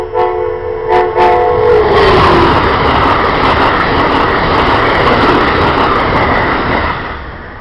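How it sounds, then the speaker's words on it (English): An Amtrak Northeast Regional hauled by an ACS-64 electric locomotive sounds a loud, falling horn blast, then thunders past close by in a sustained roaring rush of wheels and cars that fades slightly at the end. "that was the Northeast Regional and my fifth ACS 64"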